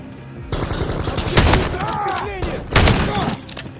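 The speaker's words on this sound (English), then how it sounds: "Dude, you are so violent with that shotgun." Shotgun blasts in the Call of Duty: Modern Warfare 3 video game ring out in loud, heavy bursts with a rattling tail, mixed with other game gunfire while voices talk over the action.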